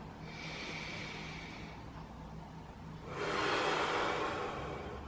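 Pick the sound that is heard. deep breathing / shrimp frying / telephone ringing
deep breathing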